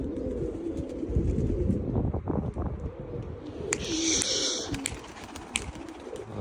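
Pigeons cooing nearby, low soft coos repeating over a rumbling outdoor background with some wind noise, plus a brief higher chirping sound.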